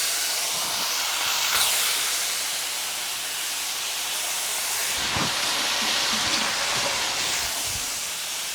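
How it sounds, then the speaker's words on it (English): Bacon fries in a hot pan with a loud, constant hissing sizzle, steady and close, with faint clinks and rustles underneath. "My next step though is to fry this bacon"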